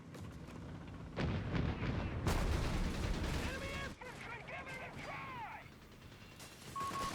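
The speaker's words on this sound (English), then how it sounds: "that artillery? Oh, that's the Captain Mortar Barrage" Mortar barrage in Company of Heroes 3: repeated loud explosive thumps and crashes amid dense battlefield gunfire, with whistling incoming shells near the middle and a sustained roar throughout.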